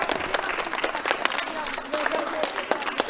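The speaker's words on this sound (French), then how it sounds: "On applaudit tous Samuel." Audience applause at a Beyblade Burst spinning-top tournament in Saint-Denis, greeting the winner with a steady patter of many hands clapping in a crowd, fairly close and continuous throughout.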